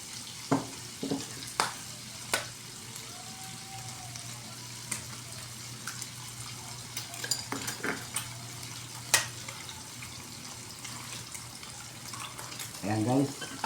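Two eggs are stirred in a bowl, producing irregular clinks and taps of a utensil against the bowl, with occasional quieter scraping and low background noise.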